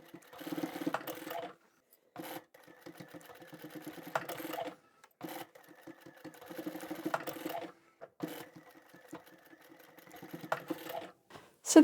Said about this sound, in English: so I'll triple stitch over that.